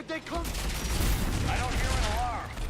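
A handheld rocket launcher fires in Mass Effect 3 amid continuous battle noise: dense, overlapping blasts and booms fill the whole stretch at close range.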